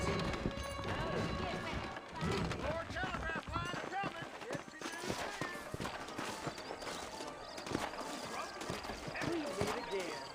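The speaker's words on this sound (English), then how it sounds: "I got the horses saddled up and ready out front." Saddled horses' hooves clip-clop steadily in the video game Red Dead Redemption, a busy run of hoofbeats mixed with game ambience, an occasional whinny and voices talking throughout.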